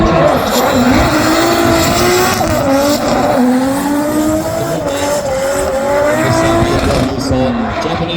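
A BMW drift car at a Bishopscourt drifting event, its engine revving and rising in pitch alongside loud continuous tire squeal, with a commentator talking over it throughout.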